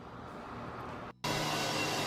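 Steady mechanical engine drone of mowing machinery, broken by a short dip before resuming louder and continuous.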